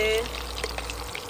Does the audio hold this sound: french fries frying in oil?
yes